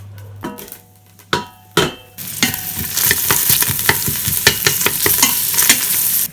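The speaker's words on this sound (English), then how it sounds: "Chuck a couple of onions in a pan and fry them." Onions frying in a pan at home, with a few sharp clatters at the start giving way to a steady, close sizzle broken by rhythmic scraping and stirring strokes.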